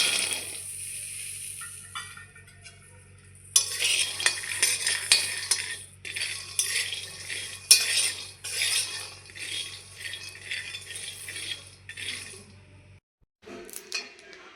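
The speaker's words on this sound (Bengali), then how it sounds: "তো বাদামগুলো এখন আমি ভেজে নেব।" Peanuts dry-fried and stirred in a pan, a busy rattling and clinking of nuts and utensil against metal that starts up after a quieter opening, runs on steadily, pauses briefly, then resumes; no talking.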